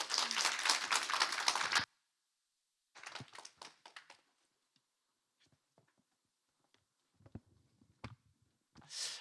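A church congregation applauds: a dense burst of clapping lasts under two seconds, then after a pause a few scattered, fainter claps and taps trail off in a quiet hall.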